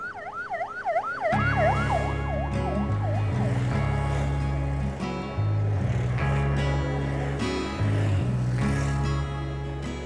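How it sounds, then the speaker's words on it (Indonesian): An ambulance siren wails in rapid rising and falling sweeps, then drops out as a heavy vehicle's engine and traffic rumble take over on a congested road, with brief horn-like tones layered over the drone. "Ambulan ya."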